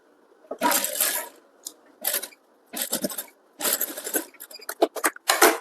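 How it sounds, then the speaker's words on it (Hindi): A sewing machine edge-stitches piping on a princess-cut blouse, running in several short bursts of rapid whirring separated by brief pauses, close and fairly loud, with no talking. "यहाँ पर धार सिलाई लगा देंगे"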